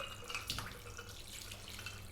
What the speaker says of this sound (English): we're going to pour ice water over this.